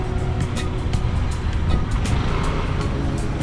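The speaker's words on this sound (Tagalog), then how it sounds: "Ang traffic naman." Busy Philippine street traffic rumbles steadily, with dense low engine drone from cars and trucks, a few brief higher hisses passing through, and faint voices now and then underneath.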